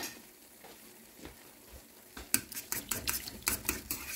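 Chopped tomato pieces stirred into a dish with a utensil, a quiet stretch giving way to a busy run of scraping, clinking strokes against the pan with a faint sizzle beneath, close and without talk.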